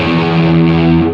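Electric guitar through a Line 6 modeler, a single loud sustained distorted chord with a muddy, boomy low end, ringing for about a second before cutting off, no voice.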